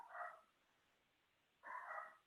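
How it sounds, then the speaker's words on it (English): Dogs barking in the background of a remote meeting, two short muffled bursts separated by a quiet pause, fairly faint and distant with no speech over them. "And you hear my dogs in the background."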